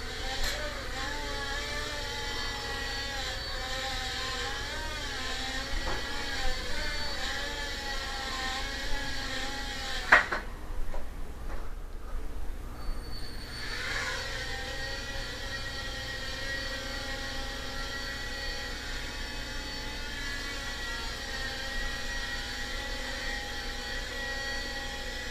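A Heli-Max 1SQ RC quadcopter with a damaged propeller flies steadily nearby, its rotors giving a continuous whine with wavering overtones and a brief dip partway through, with no talking.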